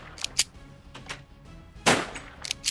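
Sharp, short pistol gunshots in Minecraft pop sporadically, a handful of separate shots with one louder blast near the end, against a quiet background.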